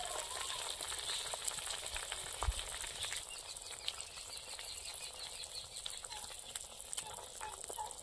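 Fried pieces of kalbaus fish going into a simmering kohlrabi curry in a pan, giving a steady, fairly quiet sizzle and bubbling throughout, with one brief low thump near the middle and no talking.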